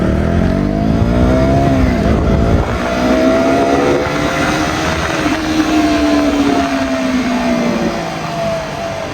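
A KTM motorcycle of the 200cc class pulls hard down an empty road, the engine note rising steadily through the gears, loud and close throughout with a slight drop near the end.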